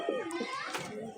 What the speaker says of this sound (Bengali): দেখুন পায়রা দুটো কোয়ালিটি একবার দেখুন